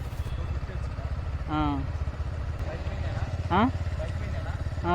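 A motorcycle engine chugs steadily with a low, pulsing rumble throughout, while short voice-like calls rise over it twice.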